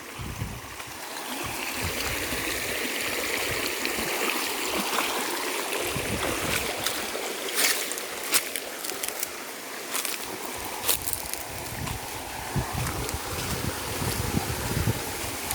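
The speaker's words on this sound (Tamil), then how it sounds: "வாய்க்காலில் தண்ணி கரை புரண்டு ஓடுது." Water rushes steadily along an irrigation canal beside a coconut grove, a constant broadband gush with occasional splashes and some wind buffeting the air.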